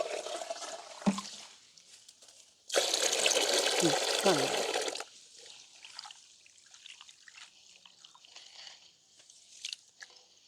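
Sesame seeds are swished and sloshed in a vessel of water in a village kitchen, a loud watery rush lasting a couple of seconds, followed by soft trickles and drips while someone talks.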